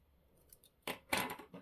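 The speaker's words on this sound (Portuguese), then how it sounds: "Aqui com baixíssimo e vou cortar o meu fio." Scissors snip through crochet yarn during work on a crochet table runner: two quick, close, crisp cuts about a quarter second apart, following a faint rustle of handling, with no one talking.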